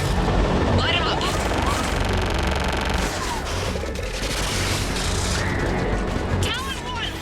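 Gunship weapons fire on ground targets in the Mass Effect 3 video game, with dense rapid bursts of gunfire and booming impacts under loud mechanical noise, while voices talk over the barrage.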